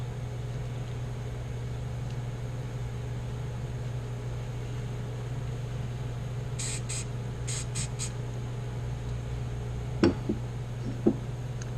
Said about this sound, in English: you can spray it with a little activator